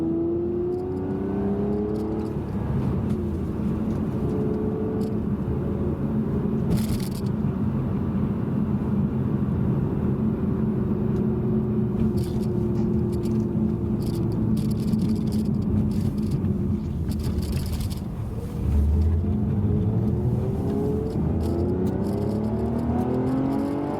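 Engine of a Peugeot 406 V6 with a manual gearbox rumbling steadily from inside the car while driving, a low continuous drone with gentle rises and falls in revs and a brief dip near the end.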